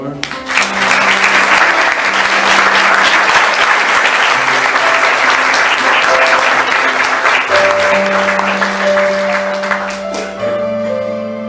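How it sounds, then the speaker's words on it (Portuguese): A church congregation applauds, many hands clapping loudly and continuously while sustained musical tones play underneath, the clapping fading near the end as the music carries on. "Vamos aplaudir o Senhor."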